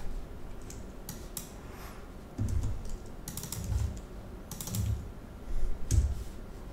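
Computer keyboard keys pressed for shortcuts during web design work: soft clicks in a few scattered clusters, close by and fairly quiet against faint background noise.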